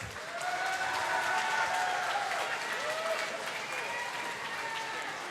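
A crowd applauds and cheers for two fighters after a bout at a mixed martial arts event in a large hall, a sustained wash of clapping with shouts rising over it, heard from a distance.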